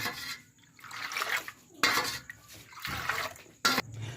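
Spoon stirring sour starter curd into milk in a pot to set yogurt, giving irregular liquid swishes and scraping clinks near the mic, with short louder bursts.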